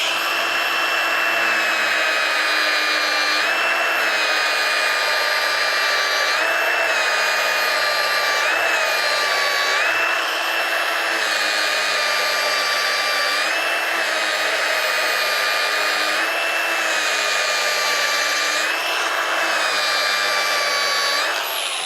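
An angle grinder with a grey 400-grit wheel polishes stainless steel butt welds, a steady high whine running continuously with slight pitch wavers as pressure shifts, close and loud with no talking.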